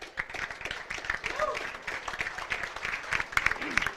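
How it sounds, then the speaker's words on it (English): Audience applause at a high school sports awards ceremony, a short burst of steady clapping from a crowd with voices mixed in. "the student athletes give them a round of applause"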